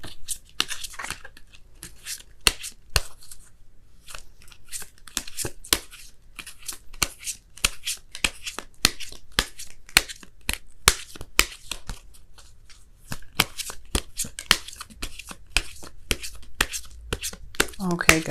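Oracle cards being shuffled and pulled for a tarot reading, a long run of rapid, close, crisp flicks and riffles in uneven bursts, with a voice talking at times.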